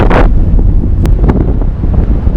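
Strong gusty wind on a jetty at Fowlers Bay, Australia, buffets the microphone with a loud, continuous low roar, close and uninterrupted.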